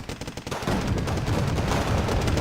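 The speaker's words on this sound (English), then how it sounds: "the MiG-13 just drove right into some infantry fire" Infantry gunfire in a war strategy video game: dense, continuous crackle of rifle and machine-gun fire. It swells in after a few opening bursts and stays loud and unbroken to the end.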